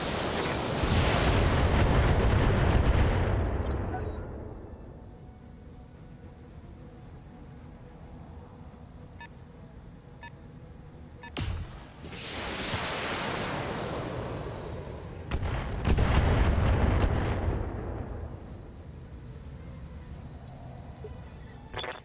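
Weapons fire in the BattleTech video game, with three heavy roaring blasts, each swelling and fading over a few seconds with sharp metallic impacts between them, loud and close.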